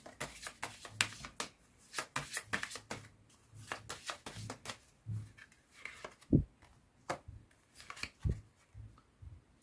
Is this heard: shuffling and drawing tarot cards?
yes